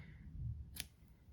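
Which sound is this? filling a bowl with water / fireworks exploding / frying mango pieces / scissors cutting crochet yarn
scissors cutting crochet yarn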